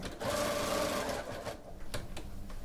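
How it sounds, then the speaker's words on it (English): Sewing machine stitching binding onto a minky baby quilt, a steady close whir for about a second and a half, then slowing into shorter bursts with a few sharp clicks. "now we're going to sew to within a 1/2 inch"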